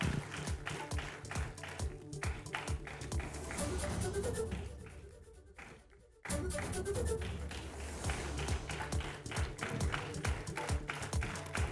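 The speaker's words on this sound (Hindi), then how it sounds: "तालियां थोड़ी कम लग रही हैं." Scattered clapping and tapping from a modest conference audience at the Ideas of India event, uneven and somewhat sparse, dipping briefly in the middle before picking up again.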